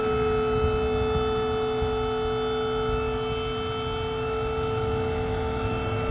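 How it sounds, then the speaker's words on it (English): A dump trailer's hydraulic pump runs steadily under wireless remote control, giving a loud, constant electric motor whine and hum with no pauses or change in pitch, heard alone. "just the pump working"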